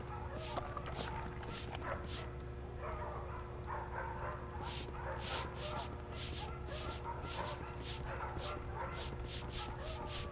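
Dogs bark, yip and whimper in kennels in the Family Guy video game, with repeated sharp barks in an uneven rhythm over a steady hum of background tones.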